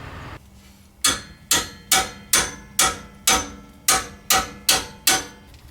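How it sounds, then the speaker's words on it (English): A hammer strikes the brake caliper bracket bolts on a 2004 GMC Yukon Denali, landing about ten sharp, evenly spaced metallic blows in quick succession, close and loud, each ringing briefly before the next. "Sometimes you're going to have to use some pounding of a hammer to get those bolts off."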